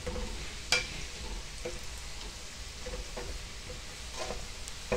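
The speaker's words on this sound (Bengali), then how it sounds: "লবঙ্গ, দারচিনি, তেজপাতা দিলাম, একটু ভেজে নিই" Whole cloves, cinnamon, bay leaves and caraway fry quietly in hot oil with a soft, steady sizzle, punctuated by a few sharp spoon scrapes and taps against the pan.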